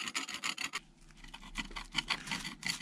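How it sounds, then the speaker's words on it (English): A scraper drags softened paint and stripper off a vintage rim latch in short, repeated rasping strokes, close and quiet, with no voices. "We can scrape it off and..."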